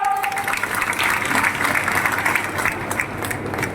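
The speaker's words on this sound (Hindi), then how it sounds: "सब लोग ताली बजाओ, यहां भी ताली बजाओ" A rally crowd in Morena claps together at a political welcome, a dense, steady patter of many hands spread across the space, sustained throughout with a brief voice at the start.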